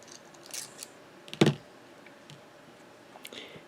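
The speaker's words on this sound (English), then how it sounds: "So let's unscrew the pen." Faint handling noises with one sharp click or twist in the middle, heard as a Zenzoi fountain pen with a Schmidt nib is unscrewed, then a few light taps of the parts. Nobody talks.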